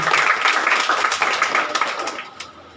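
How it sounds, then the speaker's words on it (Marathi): Ten prize-winning coaching-class students get a burst of crowd applause at a prize distribution ceremony, dense steady clapping that tapers off toward the end. "एकदा त्या 10ही विद्यार्थ्यांसाठी आपण जोरदार टाळ्यांचा गजर करू."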